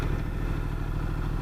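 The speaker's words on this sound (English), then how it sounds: "This engine is bitching in this bike." A Ducati Multistrada motorcycle engine runs steadily at idle or low revs, a close, constant low rumble with a faint mechanical clatter and no talk over it.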